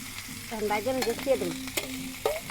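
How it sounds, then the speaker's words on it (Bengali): Beef kala bhuna made with Qurbani beef sizzles and fries in a pan while it is stirred, giving a soft steady crackle with a few scraping strokes and small knocks. The sound is close and quiet, and nobody speaks. "দেখেন কালা বোনা করতেছি"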